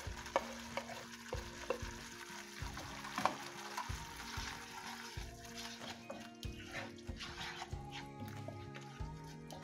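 Ground cumin and coriander powder fry in a pan for matar paneer, a soft steady sizzle punctuated by repeated scraping stirs of a spoon, with a voice talking faintly in the background.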